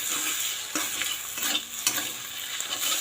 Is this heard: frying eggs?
yes